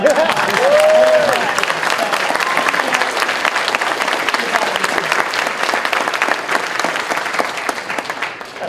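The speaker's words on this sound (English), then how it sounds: "can we get a round of applause for this runner dude?" A dense convention audience applauding steadily at a BronyCon 2014 panel, with a brief whistle near the start and some voices mixed into the sustained clapping.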